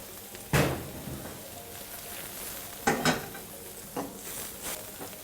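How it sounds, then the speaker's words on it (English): Onions toasting in a pan while beef liver is prepared for breakfast: a faint steady sizzle runs under several sharp clinks and scrapes of a utensil stirring against the pan. "Keep on toasting so that the onions don't get burnt"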